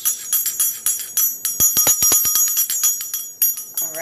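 A small bell with a quartz point rings in a series of bright, sharp strikes, some spaced and some in a quick run, each leaving a short shimmering ring, close and loud with no talk.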